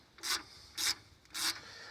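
An Allen wrench turns out a socket head keeper bolt. Three short, faint, evenly spaced rasping scrapes of metal turning against metal sound with quiet gaps between them.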